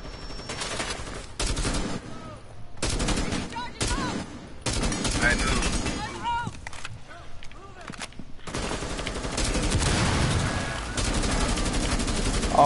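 Rapid bursts of automatic gunfire from the video game Rainbow Six, loud and close, broken by short pauses and blending into a long sustained burst near the end.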